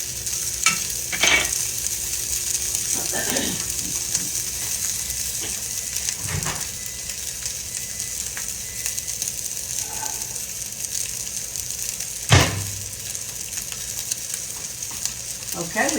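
Conecuh sausage frying in a pan, a steady close sizzle with occasional spatula scrapes and a sharp clink of utensils against the pan.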